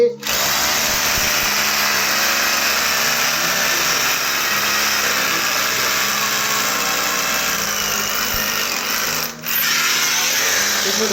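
A power drill bores holes about eight inches deep into the ground for anti-termite treatment, whining loud and steady for the full stretch with only a brief dip near the end.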